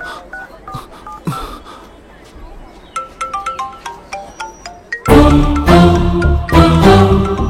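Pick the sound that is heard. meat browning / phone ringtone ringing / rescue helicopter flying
phone ringtone ringing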